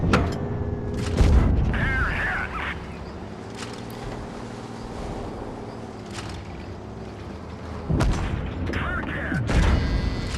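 Tank cannon firing HESH rounds from a Chieftain Mk. 6 in WoT Blitz, several heavy booms spread apart over a steady engine and mechanical drone, two shots landing close together near the end.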